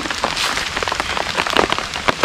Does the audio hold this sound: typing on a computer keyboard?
no